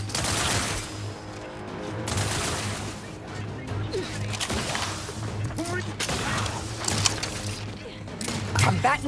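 Sustained video-game gunfire in The Outer Worlds 2, bursts of automatic fire and impacts running continuously for about nine seconds with a steady low hum and occasional crashes, voices in the mix.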